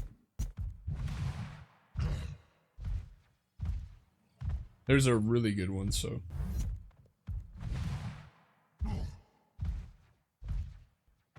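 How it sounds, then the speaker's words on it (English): In Marvel Rivals, Hulk slaps a wall again and again, each hit a dull, heavy thud in a steady rhythm about a second apart. Someone briefly talks over them midway. "where he slaps the wall. Like that thud."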